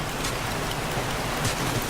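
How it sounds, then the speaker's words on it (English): Rain falls during a storm in the survival video game 7 Days to Die, a constant broadband hiss of drops with a low rumble beneath and no speech. "because of the noise of the rain and the storm"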